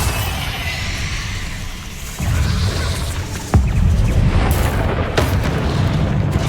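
Bombarda blasting spell in Hogwarts Legacy combat, a series of loud, deep booming explosions with a sharp blast midway and rumbling debris continuing throughout, no talk.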